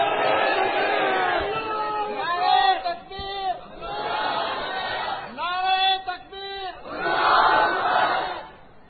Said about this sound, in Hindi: अरे बोलो ना नारे तकबीर